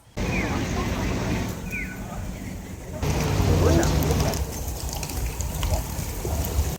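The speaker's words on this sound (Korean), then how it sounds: "근데 갑자기 비가 내리기 시작합니다." Rain begins falling beside the Otaru canal, a steady close patter that swells louder partway through, with faint background traffic or engine hum underneath.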